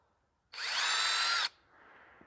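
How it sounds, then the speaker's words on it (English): A power drill bores a quarter-inch hole in a vehicle, one steady high whine lasting about a second, starting and stopping abruptly, followed by a faint lingering hum. "I'm using a drill bit the same size hole. I think it's about 1/4 inch."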